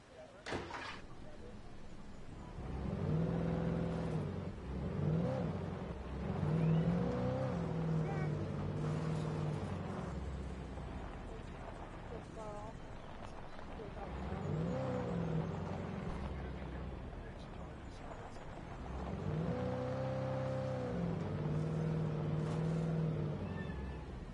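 A car in a video game drives along, its engine revving up and settling in repeated harmonic swells, fairly steady and near throughout.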